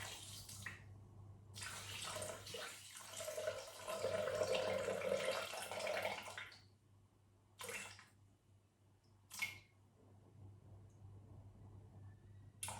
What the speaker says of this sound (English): now I'm going to add 325 grams of filtered water to this